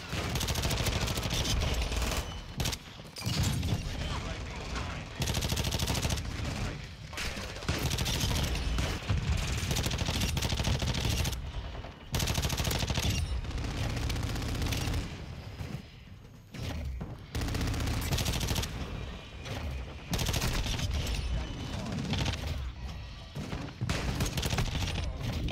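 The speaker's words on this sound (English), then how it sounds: "I don't even know where I'm getting shot from." Rapid automatic gunfire from an MP5 submachine gun in a first-person shooter, loud and near, with dense bursts filling nearly the whole stretch and only a few brief pauses between volleys.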